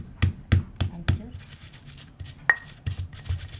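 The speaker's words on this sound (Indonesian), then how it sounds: "ulek dulu ininya kunyitnya ya" A stone mortar and pestle grinds turmeric: four sharp pounding knocks come first, followed by softer scraping and grinding strokes close by.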